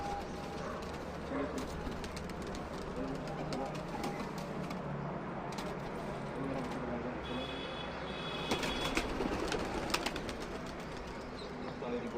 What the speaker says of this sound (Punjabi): ਇਹ ਜੀ ਬੋਬੀ ਜੈਨ ਸਲਾਮਾਬਾਦ ਸ਼ੀਨਾ ਗਰੁੱਪ ਤੋਂ ਕਬੂਤਰ ਹੈਗੇ ਜੀ ਸਾਹਿਬ